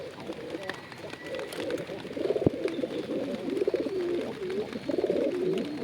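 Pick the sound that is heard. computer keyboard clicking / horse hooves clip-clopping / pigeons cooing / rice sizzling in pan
pigeons cooing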